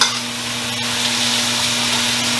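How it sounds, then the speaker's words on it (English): Drained spinach frying in a pan for a casserole, a steady close sizzle with a constant hum underneath and no talking. "what I'm doing right now is frying out the spinach."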